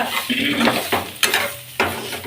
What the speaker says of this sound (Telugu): ఇక్కడ కాకరకాయ వేగుతున్నాయి